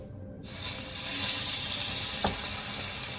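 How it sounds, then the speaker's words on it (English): Steak hits a hot pan and a loud, bright sizzle bursts up and keeps crackling steadily, close by. "Beautiful sizzle, all that kind of fun stuff."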